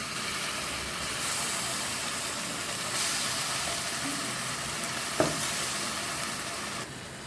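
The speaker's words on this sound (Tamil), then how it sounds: "இப்போ அரைச்சி வச்ச புதினா விழுதை நம்ம சேர்த்துக்கலாம்" Mint paste sautés with softened onions in oil in a pan, a steady close sizzle and fry with occasional stirring scrapes and a single sharp clink.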